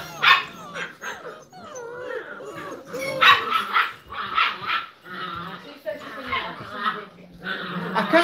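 Several young puppies bark, yip and whimper noisily and almost nonstop in close, busy overlapping bursts, while a person talks over them.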